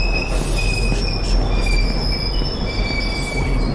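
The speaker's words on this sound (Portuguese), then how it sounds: "O trem tá vindo, tô ouvindo." A subway train approaches with loud, piercing wheel squeal over a constant heavy rumble of rolling rail noise, the high metallic shrieks sliding and overlapping throughout without pause.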